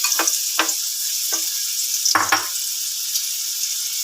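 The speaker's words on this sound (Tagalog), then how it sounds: "magigisa lang tayo ng luya" Ginger sizzles and crackles in a hot pan, a steady hiss with a few brief louder bursts of stirring or tossing, close and without talk.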